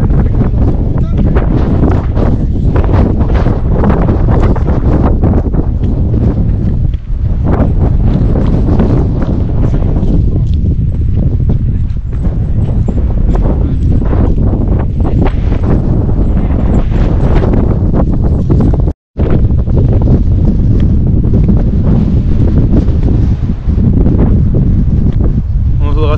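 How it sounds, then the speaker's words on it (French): Wind blowing hard in Cape Town with the harbour nearby, a loud, steady rumbling buffet on the microphone that runs almost without pause, with one brief dropout partway through. "On entendra sûrement le vent."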